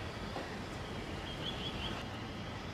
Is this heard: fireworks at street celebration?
no